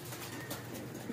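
Pet pigeons cooing softly and steadily over a low, continuous murmur, close by with no talk.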